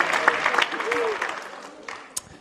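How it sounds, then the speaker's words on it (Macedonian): Audience applause at a stand-up comedy show: a burst of clapping fades over about two seconds, with some crowd noise behind it and no clear speech. "Одма, аплауз, браво, добре."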